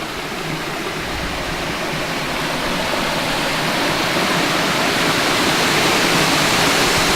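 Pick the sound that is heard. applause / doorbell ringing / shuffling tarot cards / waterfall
waterfall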